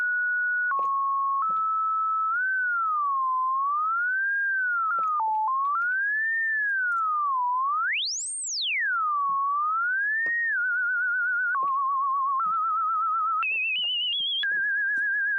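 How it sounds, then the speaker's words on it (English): A pure sine tone from the self-oscillating filter of the BA-1 soft synth on iOS holds steady pitches, then glides smoothly up and down. One high swoop rises and falls, and the tone ends in small stepped jumps, all alone and clean. "So because the filter now is self-oscillating, it becomes a sine wave."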